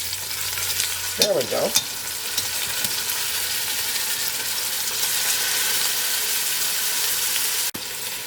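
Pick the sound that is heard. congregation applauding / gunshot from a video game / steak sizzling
steak sizzling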